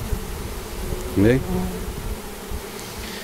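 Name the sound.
buzzing bees, Brazilian stingless bees and Apis bees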